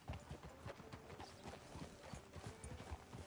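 Horse hooves clip-clop in a video game, a steady walking rhythm of close, distinct hoof beats running continuously without pause.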